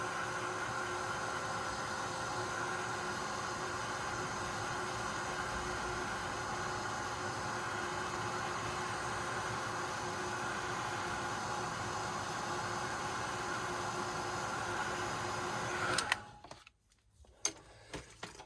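A heat gun warms an ink-pad master board with a continuous even whirring blow lasting about sixteen seconds before cutting off, leaving a few soft clicks and handling noises.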